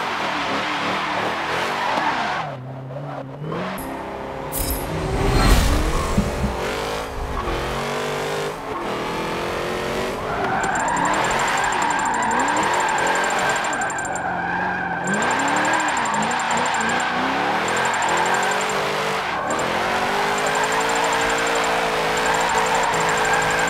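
A 2003 Holden Commodore drift build in Forza Motorsport 7 screeches through long, loud tire squeals over a steadily revving engine, with sweeping pitch changes as it slides through corners.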